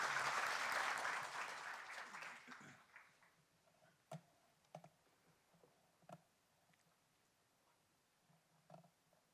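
Audience applause welcoming a professor at a broadcasting forum, a dense burst of clapping that fades out after about two seconds, followed by scattered isolated claps and clicks in a quiet room.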